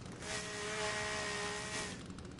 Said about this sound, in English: I hear you guys' chainsaw revving.